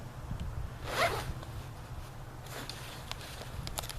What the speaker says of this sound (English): you have two pull zippers here